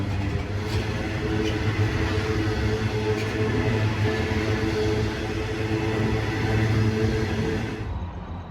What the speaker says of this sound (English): here are the same 3 locos returning with the empty coal hoppers a little while later